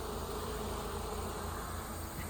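Honeybees buzz steadily around hive frames heavy with nectar stores, a dense continuous drone with no pauses, close and fairly loud, with no voices.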